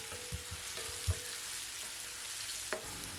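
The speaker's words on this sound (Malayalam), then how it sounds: "ഇഞ്ചി ഒരു ചെറുതായിട്ടൊന്ന് ബ്രൗൺ കളർ ആവണം, നന്നായിട്ടൊന്ന് മൂത്ത് വരണം, അതുവരെ ഇത് വഴറ്റി കൊടുക്കാം." Ginger sautés in a pan for a green grapes pickle, giving a soft, even sizzle with a few faint taps from stirring, fairly quiet and without voices.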